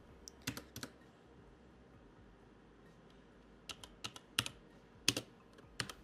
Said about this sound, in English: type the following SSH command to connect to the